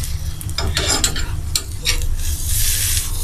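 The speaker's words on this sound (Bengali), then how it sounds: "আমি এখন এটাকে উল্টিয়ে দিচ্ছি সুন্দর করে আস্তে করে" Spicy egg crepe sizzling and frying in a pan while being flipped, a steady close hiss with soft scraping and stirring strokes from a utensil, no voices.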